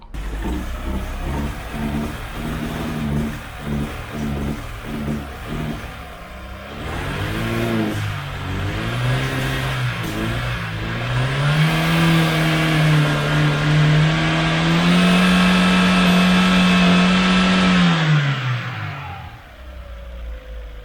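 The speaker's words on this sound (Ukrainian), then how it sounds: "Так працює аптівка. Все ковбасить, хоче газує, хоче не газує, стріляє." A Daewoo Nexia engine after an overhaul runs roughly and misfires, surging and sagging unevenly before climbing into a sustained, loud rev that holds and then drops away, heard close with no talking.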